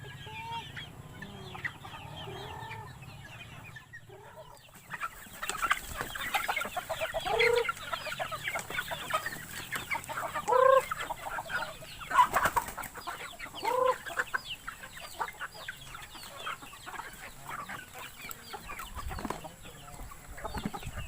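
Bantam chickens in a backyard in Bohol, Philippines cluck steadily at feeding time, with several birds calling at once in close, busy overlapping bursts and occasional louder cackles.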